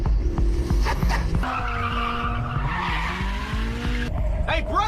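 A car in a street race from the Initial D story, floored through a drift: an engine roaring under sustained, wavering tire squeal, loud and close, with a brief voice near the start.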